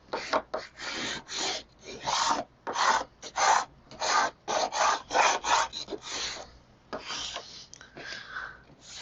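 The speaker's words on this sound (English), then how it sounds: "I'll use my little squeegee" A small squeegee rubbing a stencil onto a glass casserole dish, repeated scratchy rasping strokes in an uneven back-and-forth rhythm, close and fairly clear with no talking.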